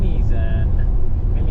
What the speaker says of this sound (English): So I'm driving from Mimizan